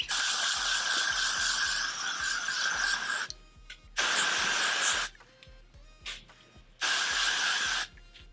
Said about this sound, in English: making it look pretty again, and getting volume back where it needs it. Hairspray. Hit the back too.